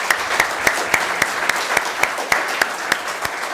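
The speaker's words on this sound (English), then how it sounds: "I'd like to just give him a round of applause." An audience at a Columbus Day celebration in Scotch Plains gives a round of applause, with scattered, evenly paced claps sounding from a modest crowd and no voices over them.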